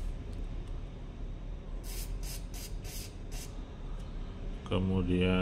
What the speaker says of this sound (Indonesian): Oke, jadi saya semprot saja dulu.